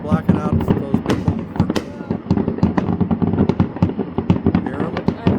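Rapid, irregular bangs and crackles from New Year's midnight fireworks in Kona, some close and loud, others distant, while people chat in the foreground.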